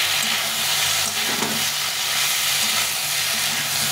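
Chopped tomato sautés in hot oil for a fish curry with potato and cauliflower, giving a loud, dense, continuous sizzle close up, with a brief stirring scrape partway through.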